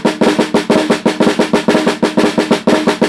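A drum plays the flam accent rudiment fast: a dense, loud, close run of rapid strokes in triplet groupings, each accent softened by a grace-note flam, with no voices.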